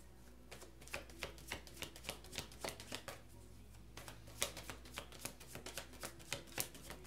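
Tarot cards are shuffled by hand in quick rhythmic riffles, a close, quiet run of crisp regular snaps with no talk.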